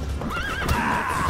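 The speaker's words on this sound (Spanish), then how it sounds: "mira los caballos como se dan de hostias" Horses in The Witcher 3 video game neigh and scuffle, with a sharp, rising-and-falling whinny over a low, busy background of hoof movement and a brief thump, heard alone.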